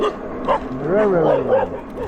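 Dog vocalizing on an outdoor track, a short run of yips and whiny, rising barks close by and fairly loud, lasting about two seconds.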